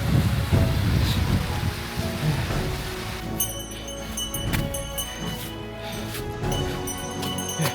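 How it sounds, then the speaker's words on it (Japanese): Rushing water from a mountain waterfall in remote forest near a hot spring, a steady broadband roar heard close and alone, with faint clatter of footsteps or movement over it. "滝です。"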